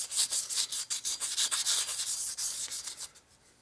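Rhythmic back-and-forth hand sanding on a metal 8mm 62-tooth belt-drive clutch basket pulley, a steady run of bright, raspy scrapes with brief pauses between strokes.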